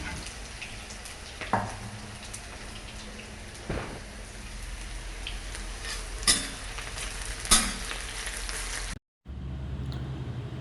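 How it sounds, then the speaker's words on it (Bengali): Masoor dal bubbles and sizzles on a high flame as it is stirred, a steady soft crackling hiss broken by a few sharp scrapes and knocks of the spoon, then a brief gap. "ডালটাকে এবার আমি নেড়েচেড়ে 5 মিনিট হাই ফ্লেমে ফুটিয়ে নেব।"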